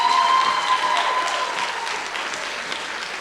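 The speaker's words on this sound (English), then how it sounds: "please give a round of applause to Mr. Dunn and Mr. Lockwood" Audience applause at a National Honor Society induction ceremony, a steady wash of clapping from a seated crowd, strongest at the start and slowly thinning out.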